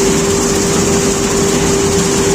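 A John Deere combine harvester threshing soybeans in a field gives off a loud, steady mechanical drone with a constant whine running through it, unchanging and close.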